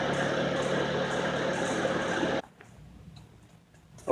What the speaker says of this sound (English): now that the engine has been running for a while